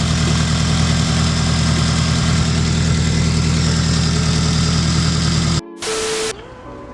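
A Hyundai Genesis built to 500 hp idles after an exhaust manifold repair, a loud, steady, rumbling engine pulse close by for about five and a half seconds, then cutting to brief fragments.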